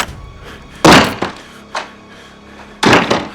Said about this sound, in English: The man banged on the door furiously